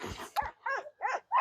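Several dogs bark on a property during a training session, four sharp barks and yelps in quick succession, fairly close and loud.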